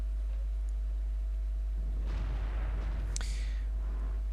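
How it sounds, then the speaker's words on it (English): A 75mm tank gun fires an APCR shell at an enemy turret in World of Tanks, a single heavy boom with a long rumbling tail followed by a sharp crack, set over a constant low engine drone. "I load the APCR to try and punch through the top of this guy's turret, and I successfully put a shot in"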